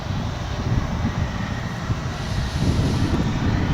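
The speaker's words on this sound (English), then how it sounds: "that Embraer 175 was directed over to 18 left, coming in from Harlingen" An Embraer 175 jet arrives at DFW, a steady distant engine rumble with broadband roar that swells slightly in the last second.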